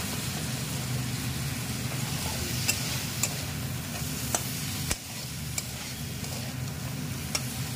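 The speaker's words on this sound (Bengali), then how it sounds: "এই মাছগুলো দেওয়া হয়েছে। হ্যাঁ সুন্দর ভাজা হয়ে গেছে" Shrimp fry in hot oil in a pan, a steady close sizzle broken by occasional sharp scrapes and taps as the pieces are stirred.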